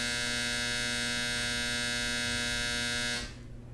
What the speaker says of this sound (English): my dryer's going off again